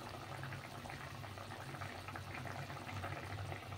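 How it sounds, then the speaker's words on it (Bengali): Bata fish simmering in a spicy mustard-style gravy, a faint, even bubbling and gentle boiling hiss heard close and steady throughout, with no talking. "মাছটাকে অন্তত মিনিমাম 5 থেকে 7 মিনিট একটু ফোটাবেন ওই ঝোলটার সাথে"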